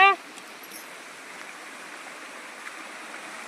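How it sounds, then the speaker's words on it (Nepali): A mountain stream runs steadily with a continuous close rushing hiss of flowing water, unbroken and fairly loud throughout. "एकदम खोलाको पानी पनि एकदम बगिरहेको छ, एकदम स्वा गरेर"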